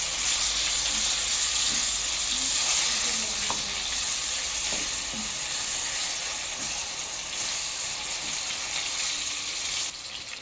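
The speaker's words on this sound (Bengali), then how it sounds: "শুরুতেই বেগুন ভাজি করে নেব" Eggplant fries in a pan with salt and turmeric, giving a loud, steady, hissing sizzle that runs almost unbroken, with a few faint scrapes beneath it.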